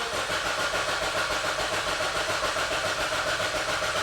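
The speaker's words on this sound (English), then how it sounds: "So I'm going to crank the engine again" A 2009 Honda Civic with a cranks-but-won't-start fault turns over steadily, a continuous even mechanical churn filling the whole stretch at close range with no voices.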